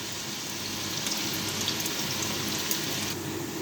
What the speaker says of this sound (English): we're going to start off by putting the onions in, and we're going to let those brown for about 2 minutes